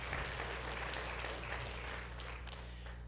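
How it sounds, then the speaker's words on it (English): Church congregation applauding at a Sunday service: soft, steady clapping heard from a distance, with a low hum underneath and fading slightly toward the end. "Let's give our applause to Jesus Christ."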